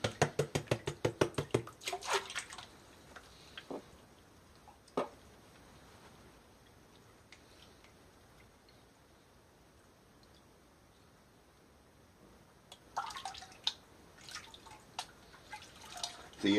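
Water sloshes and splashes in a gold pan during panning, with bursts of rapid swishing at the start and end separated by a quieter stretch of occasional drips and faint movement.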